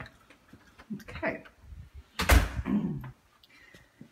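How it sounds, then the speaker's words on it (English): A house's front door opens with a sharp thud and rattle of the latch and frame, followed by a brief creaky swing, while a person speaks nearby. "So we'll go into the front door."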